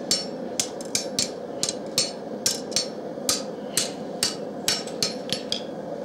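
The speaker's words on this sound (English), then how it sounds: "you can keep it hot with a hammer like this." A hammer strikes hot steel on an anvil while a smith forges a knife, about twenty sharp, ringing blows in a fairly steady rhythm over a constant low forge roar.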